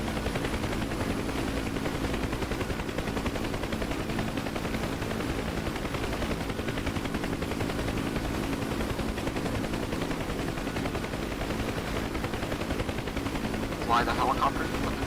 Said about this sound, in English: We'll switch over to the door gun now